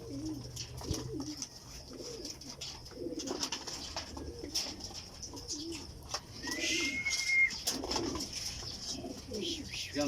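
Pigeons coo repeatedly in low, rounded phrases close by, over a steady rustle of outdoor ambience, with faint chirps in between, at a racing pigeon loft during a homing training release.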